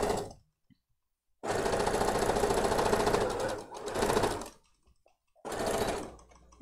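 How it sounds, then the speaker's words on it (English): A serger stitches stretchy knit fabric for a pencil skirt in three loud, close bursts of rapid mechanical whirring, the first one long and the later two shorter, with silent pauses between them. "You just serge it and it loves stretchy fabric."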